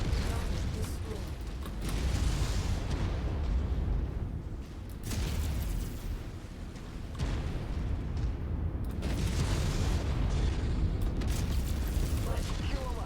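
Booming explosions and heavy mechanical rumble from battling giant mechs in MechWarrior 5, destroyed targets going up in dense, overlapping blasts that swell and fade, with radio voices talking faintly in the mix.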